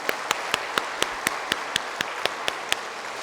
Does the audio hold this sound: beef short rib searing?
no